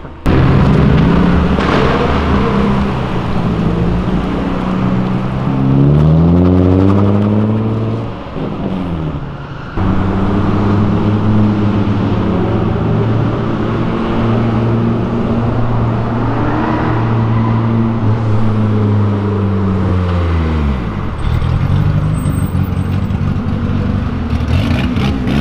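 Cars leaving a neon-lit car meet, including a turbo Civic Si and a Nissan 350Z, rev hard and accelerate past one after another, with loud rising and falling engine tones close by and a brief lull midway.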